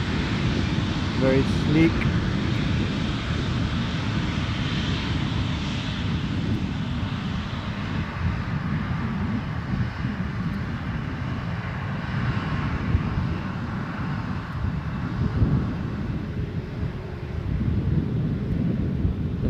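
A United airliner passes at Edinburgh Airport with a continuous low jet rumble that stays fairly even, while a person talks briefly over it.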